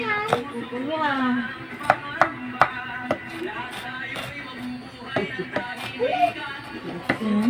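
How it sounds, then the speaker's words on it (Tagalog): Small onions chopped on a board in a home kitchen, a series of sharp knife taps at an irregular rhythm, heard close over steady background noise while a voice talks throughout. "Chop na natin yung sibuyas na maliliit."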